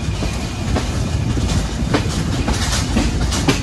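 Sundarban Express train 726 running on the rails between Chuadanga and Jashore, heard from on board as a steady loud rumble with faint rhythmic wheel clicks through the whole stretch, no voices.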